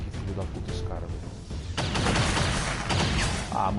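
A gunshot fired through a box in XCOM 2, a sharp crack partway in followed by dense, sustained rumbling gunfire and impacts, with talk running over it.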